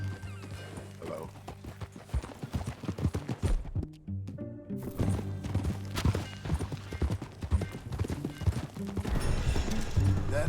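Horse hooves clip-clop steadily through a Red Dead Redemption 2 ride, a dense rhythmic trot loud and close, with a brief whinny and a short lull midway, mixed with game music and ambience.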